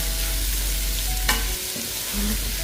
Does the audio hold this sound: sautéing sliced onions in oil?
yes